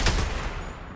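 Gunfire in the shooter game Dirty Bomb: a dense, loud burst of rapid shots fills the whole moment with no pause.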